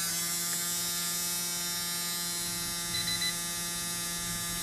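A small electric motor runs steadily during a supercapacitor bench test, giving a constant close-up whine and hum with no pauses and no talking.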